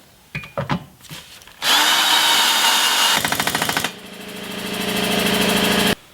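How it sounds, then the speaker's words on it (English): A power drill whirs in loud bursts, pausing between runs, with a ratcheting stutter as self-tapping screws bite into an off-road slider frame, then a long steady high-speed spin that stops abruptly. "finish drilling the holes and installing self-tapping screws into the frame"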